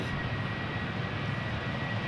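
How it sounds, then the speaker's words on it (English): A Transavia Boeing 737-700 departing Amsterdam Schiphol for Pisa gives a loud, close, steady jet engine roar, brief and unbroken. "Time for Transavia to take off."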